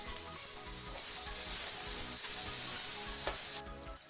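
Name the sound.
chopped onion frying in oil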